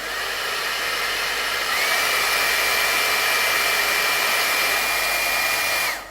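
An iTeracare device, the quieter model, runs with a steady airy whir like a hair dryer, a faint whine rising partway through, then cuts off at the end.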